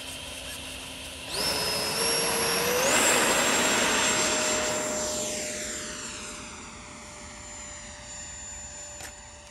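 An RC F-22 Raptor model jet running on a 2200 mAh 4S battery whines loudly as its motor spools up, then passes and recedes with a falling pitch, holding a steady high tone throughout.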